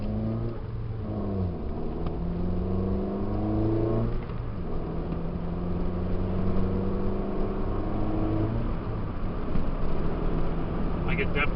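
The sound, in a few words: Tanabe Medallion exhaust revving on 2009 Toyota Yaris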